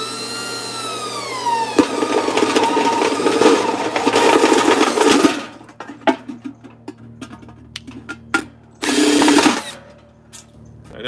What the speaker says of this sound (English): Go ahead and step drill a bit